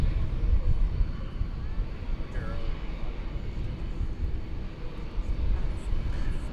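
An airliner departs DFW Airport on its Salt Lake flight, a rumbling jet roar at middle distance that stays fairly even throughout, with some faint background voice or radio underneath.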